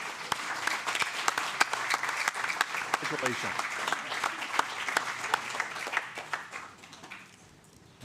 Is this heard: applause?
yes